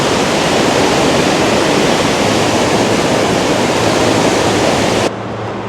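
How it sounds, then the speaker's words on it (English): A raging river roars in a mountain valley near Lauterbrunnen in the Bernese Oberland, a loud, dense, continuous rush that drops away abruptly near the end. "That is a raging river."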